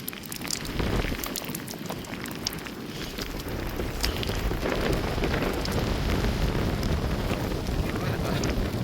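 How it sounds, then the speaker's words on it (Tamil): Steady roaring wind mixed with dense rain hiss by the sea, continuous and loud throughout with gusty broadband noise and no voices. "ஃபுல்லாக காற்று மழையும் அப்படியே தொடர்ச்சியால் சரியாக அடிக்குது"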